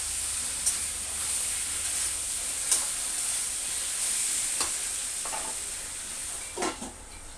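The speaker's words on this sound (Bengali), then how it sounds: "পটল দিয়ে সুন্দর করে কষিয়ে নেই" Pointed gourd stir-fries in a pan, a steady bright sizzle with occasional utensil scrapes and taps, close and even, no voices.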